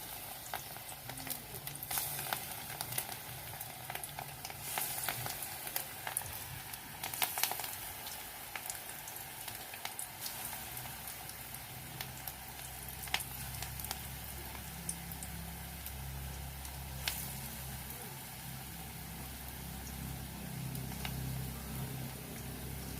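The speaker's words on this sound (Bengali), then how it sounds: "পকোড়াগুলো আমি উল্টে পাল্টে ভেজে নিই লাল করে" Fish roe pakoras deep-fry in hot oil, giving a steady, close sizzle with scattered crackles and pops throughout, and no talking.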